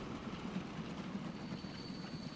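A blue train rolling along the tracks in Transport Fever 2, a steady rumbling rush with faint wheel squeal at moderate distance, continuous with no talk.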